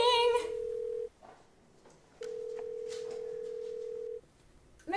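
A telephone rings indoors with two long, even electronic tones separated by a pause, fairly clear and alone apart from a brief voice at the start and end.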